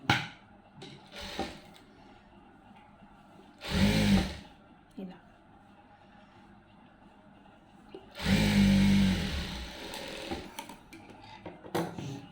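A sewing machine stitches blouse lining in two loud whirring runs, one short and one longer, separated by quiet gaps with small handling clicks and some faint speech.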